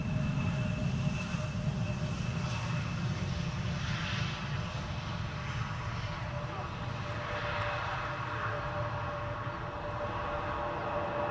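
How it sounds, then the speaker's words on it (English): KLM Embraer 175, 190 and E2 195 narrow-body jet airliners at Amsterdam Schiphol runway 18R, a broad continuous engine roar at moderate distance, steady with gentle swells. "These are the narrow bodies from KLM, the Embraer 175 and the Embraer 190s and the E2 Embraer 195s."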